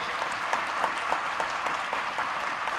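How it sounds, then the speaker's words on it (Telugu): An audience at a political rally in Telangana addressed by Chief Minister Revanth Reddy applauds, with steady, dense clapping from many hands throughout. "మీరందరూ గట్టిగా చప్పట్లతో ఆమోదం తెలపండి."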